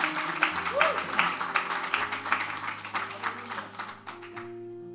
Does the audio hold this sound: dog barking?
no